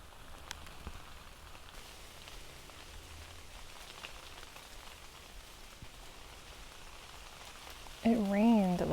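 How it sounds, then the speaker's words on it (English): Rainwater dripping from trees in summer woods after a night of rain, a soft steady patter of scattered drops throughout, with a brief louder tonal sound near the end. "you can hear all the rain falling off the trees"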